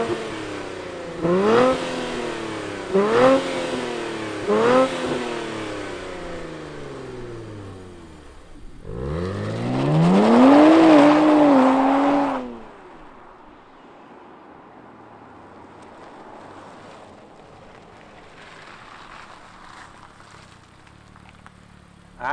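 A 2023 Nissan Z fires up and revs hard, with several sharp throttle blips rising and falling in pitch, then a longer loud rev that climbs and drops back to a quieter idle burble.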